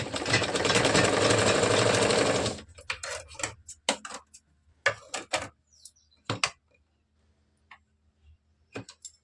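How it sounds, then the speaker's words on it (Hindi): A sewing machine runs a fast, continuous stitching burst along the choli part of a katori blouse for a few seconds, then stops, leaving scattered ticks and clicks of fabric handling. "अब हमें चोली पार्ट में सिलाई चलानी है।"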